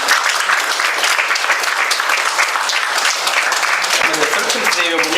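An audience applauds at a prize distribution for a National Civil Services Day event, dense steady clapping from many hands, close and loud throughout.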